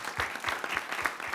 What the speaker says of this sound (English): Save the applause.